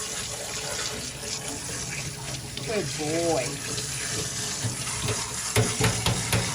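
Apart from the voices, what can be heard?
water running while rinsing a dog at a groomer's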